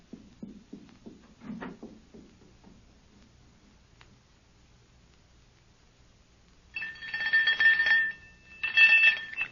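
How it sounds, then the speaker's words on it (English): An electric doorbell buzzes in two short ringing bursts near the end, after quieter, scattered knocking sounds in an otherwise hushed room. "Ring the doorbell. I'll hear it. Ring it loud."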